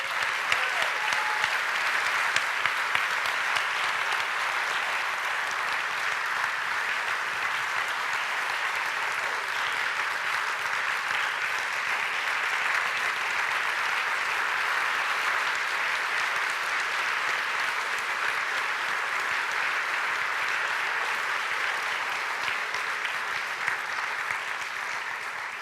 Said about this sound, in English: How about if we give them both a round of applause?